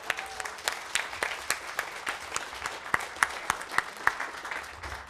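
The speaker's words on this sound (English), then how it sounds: "That deserves a round of applause." An audience at a book festival breaks into applause, a steady patter of many hands clapping at moderate volume with no voices over it.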